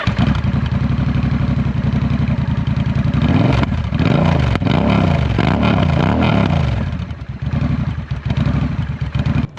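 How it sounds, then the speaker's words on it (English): A motorcycle with a slip-on exhaust idles with a deep, throaty burble, then blips the throttle several times in quick revs before settling back to a rumbling idle. "This particular bike has a slip-on exhaust that sounds glorious."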